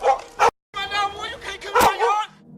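A dog barks and yelps in several sharp, loud bursts close by during a police traffic stop, with people talking over and between the barks.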